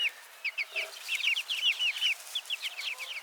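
Chickens cluck in quick, chattering bursts, several birds close together, with a steady rhythm of short calls and no voices.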